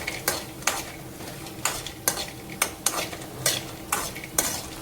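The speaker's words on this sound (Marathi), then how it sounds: "त्यामुळे हे भाजून घ्यायचे सांडगे तेलामध्ये आधी." Sandge, dried lentil dumplings, fry in hot oil in a pan while a spoon stirs them in a steady rhythm of scrapes and clinks over a soft, continuous sizzle.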